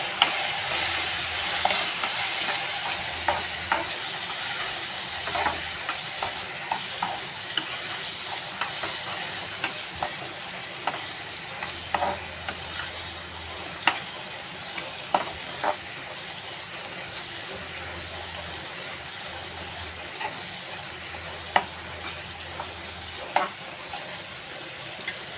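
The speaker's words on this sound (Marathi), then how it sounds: "ते छान परतून घ्या." Prawns with turmeric, garam masala and spice powder sautéed in a hot pan for sukhi kolambi, a steady soft sizzle broken by repeated scraping stirs, close and moderately quiet with no talk.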